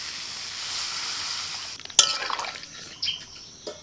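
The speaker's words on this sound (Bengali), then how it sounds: "ব্যাস আলু কষানো হয়ে গেছে। এবার জল দিয়ে দিচ্ছি।" Water poured into a hot pan of spiced, sautéed potatoes: a steady sizzle breaks into a sudden splashing hiss and bubbling, followed by a couple of light knocks, close up.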